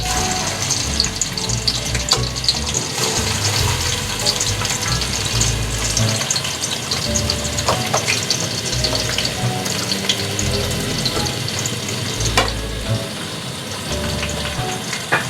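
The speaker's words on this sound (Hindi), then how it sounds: "ऑयल हमारा गर्म हो गया। अब हम इसमें प्याज ऐड कर रहे हैं।" Onions dropped into hot oil in a pot, a close, busy crackling sizzle with splashy bursts and scattered pops, fairly loud and continuous from start to finish.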